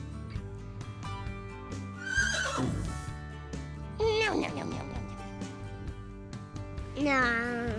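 Two or three loud horse whinnies ring out, each a shrill descending call, over light background music.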